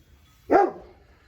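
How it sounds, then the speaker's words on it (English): A single sharp dog bark, close and loud, trailing off quickly into quiet. "She's not barking at anything in particular."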